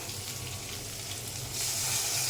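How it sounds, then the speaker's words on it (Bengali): Ridge gourd frying with onion and garlic sizzles steadily in a pan. About halfway through, hot water is poured in and the sound swells into a louder, brighter hiss. No voices are heard. "আমার পেঁয়াজ রসুনের সাথে ঝিঙ্গা ভাজা হয়ে গেছে, এখন গরম জল দিয়ে দেব।"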